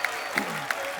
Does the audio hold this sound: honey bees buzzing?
no